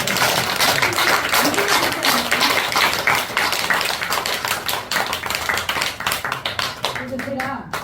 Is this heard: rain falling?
no